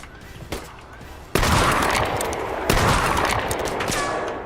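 Sniper fire in a video game, with a few sharp shot bursts standing out from a loud, busy battle din, sounding near and harsh.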